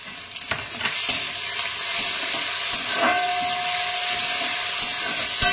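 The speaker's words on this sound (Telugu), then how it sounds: "ఇప్పుడు దీంట్లో ఈ టమాటా వేసుకొని కొద్దిగా సాల్ట్ వేసుకుంటే మెత్తగా సాఫ్ట్ అయ్యే వరకు వేయించుకోవాలి." Tomatoes and onions sauté with salt in a pan for a crab masala curry, giving a steady close sizzle throughout, broken by occasional scraping stirs and clicks of a spoon against the pan.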